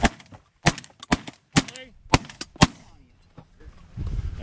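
Shotguns fire at geese during a goose hunt in a rapid, irregular volley of about seven sharp, close blasts, followed by a quieter rustle and background noise.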